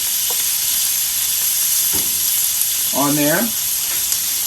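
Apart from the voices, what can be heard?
butter sizzling on a griddle with grilling meat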